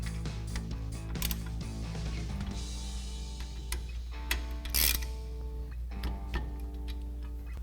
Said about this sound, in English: we'll tighten it down with our 10mm socket